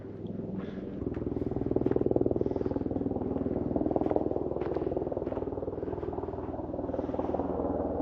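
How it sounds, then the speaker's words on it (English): A helicopter flies overhead along a backcountry route in Utah, its steady rotor thump and engine drone holding near and loud throughout, with no talking. "we got another helicopter"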